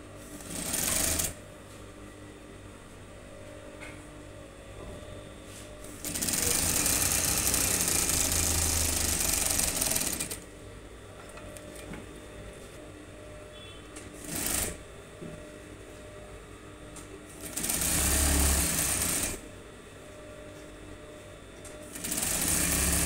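Sewing machine stitching a shirt notch cuff, in several loud bursts of rapid mechanical whirring separated by quieter stretches of low motor hum and handling, close up.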